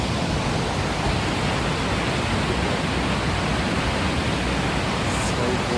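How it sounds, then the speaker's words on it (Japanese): Ryujin Falls in Nakatsugawa, Gifu, roars as a steady, dense broadband rush of falling water, loud and unbroken throughout with no voices over it. "回ってこっちが滝。"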